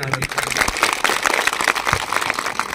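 A crowd claps in applause for the Indian Army at a mosque gathering in Drass during a mock drill, with dense, steady clapping close by and voices mixed in.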